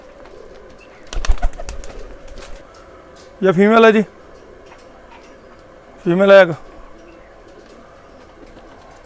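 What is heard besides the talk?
Missay pigeons cooing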